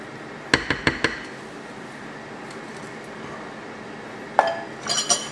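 A whisk clinks against a bowl while banana cake batter is mixed: three quick clinks close together, a quiet stretch, then another burst of clinks, close and bright with no talking.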